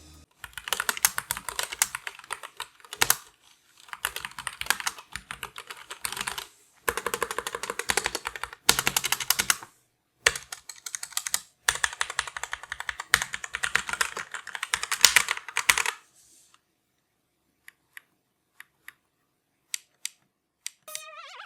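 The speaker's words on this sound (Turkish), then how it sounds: "bugün elimizde oldukça güzel bir mekanik klavye vardı" Typing on a SteelSeries Apex Pro mechanical keyboard: dense bursts of clacking keystrokes in rapid runs with short pauses, close and fairly loud, ending with a few sparse isolated key presses.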